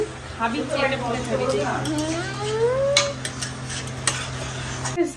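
Pots and utensils clink and scrape during home cooking at night, with irregular metallic taps over a low steady hum, and a voice speaking in the background.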